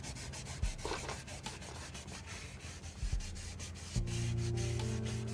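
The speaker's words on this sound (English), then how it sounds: "wet sanding is a technique of scuffing the paint, then bringing it back with buffing" Wet sanding on the paint of a 1991 Buick LeSabre: steady rhythmic rubbing strokes of abrasive paper over the panel, close and continuous, with a low hum joining near the end.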